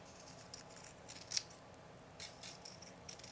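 Scissors trim fabric edges for a stuffed heart. Several quiet, close snips come in short irregular bursts with brief pauses between them.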